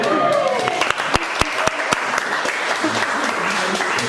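At a wedding ceremony, guests give scattered, sharp claps that ring out one by one while a person keeps talking over them, the clapping thin and uneven rather than a full ovation.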